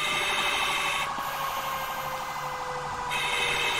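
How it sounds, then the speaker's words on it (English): Fire truck sirens in the video game GTA 5 wail continuously and loudly, with an electronic whoop that cycles steadily throughout, with no talk over them. "I wish they would turn off their sirens."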